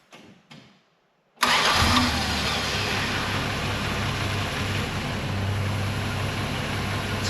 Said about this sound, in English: Started up on the first try.